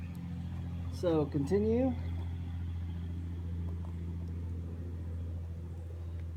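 A 5.7 Hemi on an engine stand, fitted with EZ-EFI fuel injection and an MSD 6013 ignition, idles with a steady low rumble that carries through the whole clip. A brief voice breaks in near the start, and the engine keeps running under it.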